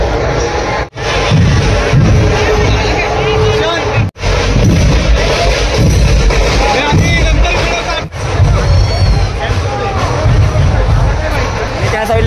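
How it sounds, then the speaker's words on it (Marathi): Large festival crowd gathered at Dagdusheth Ganpati in Pune during Ganesh Chaturthi, a dense, continuous roar of many voices and hubbub close around, with occasional brief drops and a few sharp bangs. "काय एवढी जास्त गर्दी आहे ना"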